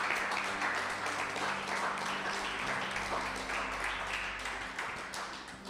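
Church congregation applauding loudly after a pastor's call, a dense steady wash of clapping that fills the whole stretch and tapers slightly at the end.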